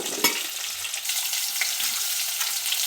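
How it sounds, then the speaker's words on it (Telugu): White radish pieces frying in a pan are stirred, a sharp scrape near the start giving way to a steady, loud sizzle with light utensil knocks, close by and without talk. "ఇప్పుడు 1 నిమిషము బాగా కలుపుకుందాము."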